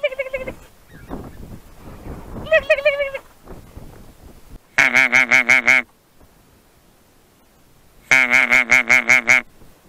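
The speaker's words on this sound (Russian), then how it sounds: "Сели гуси." Geese on the Taimyr tundra during a hunt give repeated bursts of loud, nasal honking, several calls overlapping in two clear volleys, with fainter honks and wind noise between them.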